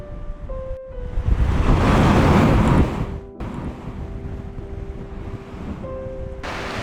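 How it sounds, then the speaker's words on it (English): Roaring surf and rushing water surge through blowholes beneath rocks near Albany, Australia, swelling loudly then easing, with steady wind buffeting and a low hum throughout. "Yet I could hear the blowholes beneath me."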